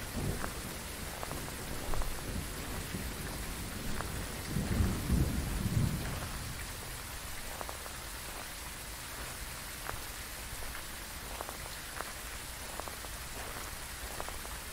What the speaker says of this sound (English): This rain is just making me sleepy